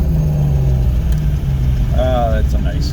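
A classic car at the Dream Cruise idles close by with a steady, low rumbling hum for the whole stretch, and a voice is heard briefly near the end.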